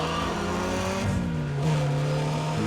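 A race car accelerates in Need for Speed ProStreet, its engine whining in a steady high drone that dips briefly as if shifting, then holds on, loud and continuous with no talk.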